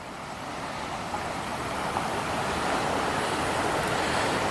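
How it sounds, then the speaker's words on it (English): Creek water pours into a canal lock at the downstream end of lock 12 on the old Welland Canal, a steady broadband rushing roar that stays loud and constant throughout, with no voices. "It's actually an awful lot of water flow."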